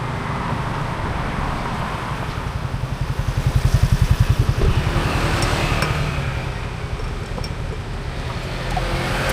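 A motorcycle in good running condition rides along a road, its engine a steady low drone with a pulsing throb that swells midway, close and continuous without speech.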